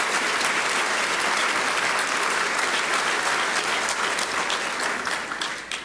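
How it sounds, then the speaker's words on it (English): Sustained audience applause for sponsors at a county State of the County address, dense and loud from a large crowd, holding steady for several seconds before tapering off slightly at the end. "Let's give a round of applause for our sponsors."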